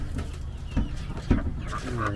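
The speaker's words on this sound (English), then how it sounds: "I'm going to let these little chicks out." Little chicks on a homestead being let out, clucking and chirping in short bursts close by over a steady background hum.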